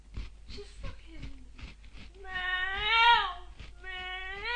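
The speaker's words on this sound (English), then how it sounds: "Fucking cat's on heat." A female cat in heat yowls close by in long, drawn-out, rising and falling meows, with people talking over and between her cries.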